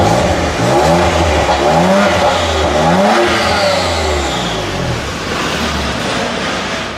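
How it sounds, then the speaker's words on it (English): A rebuilt, previously crash-damaged BMW M2 Competition engine revs repeatedly, loud and close, with rising and falling pitch sweeps over a steady idle and no talking. "Let's just give it a rev."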